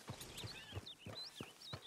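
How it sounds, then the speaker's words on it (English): Horse hooves clip-clop at a steady walking pace in the video game Red Dead Redemption 2, five or six distinct, fairly close hoofbeats with faint whistling tones above them. "Just admiring your horse there."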